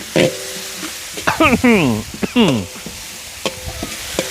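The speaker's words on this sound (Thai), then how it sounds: "พริกกระเทียมที่เราโขลกใส่ลงกระทะได้เลยครับ เราก็จะผัดตัวพริกกระเทียมนะครับ" Pounded chili and garlic stir-fried in a wok while making spicy pork stir-fry: steady sizzling and scraping, with a voice cutting in over the frying.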